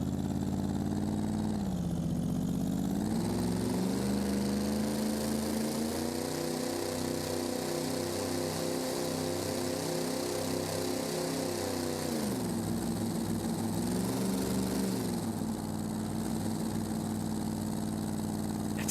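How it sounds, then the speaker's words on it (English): Underpowered engine in BeamNG labouring at about 2100 RPM while towing an empty trailer, a steady droning hum whose pitch sags and rises with load, heard alone at moderate level. "It's at like 2100 RPM to go 50. Oh, this engine sucks."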